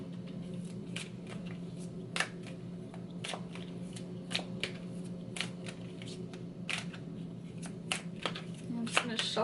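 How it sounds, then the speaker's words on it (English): Psychic reading cards being shuffled by hand, continuous soft riffling with sharp repeated card snaps over a low steady background hum, fairly close. "I'm just gonna shuffle this"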